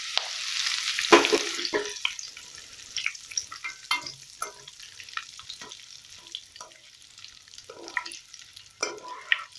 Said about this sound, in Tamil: அடுப்பை ஆஃப் பண்ணிட்டு கறிவேப்பிலை சேர்த்து பொரிச்சிக்கலாம்.